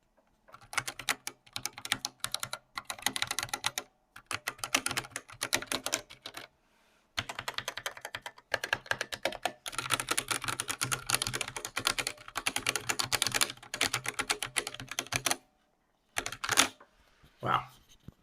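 Fast typing on a Drop Black Speech mechanical keyboard, recorded close. Dense bursts of crisp key clacks are broken by brief pauses, with a few isolated keystrokes at the end.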